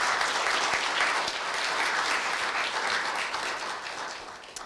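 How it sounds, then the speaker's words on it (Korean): An audience at a Korea University staff retirement ceremony gives a long round of applause for a departing staff member. Dense, even clapping fills the hall and tapers slightly toward the end. "다시 한번 큰 박수 부탁드립니다"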